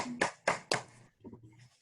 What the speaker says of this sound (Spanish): un aplauso virtual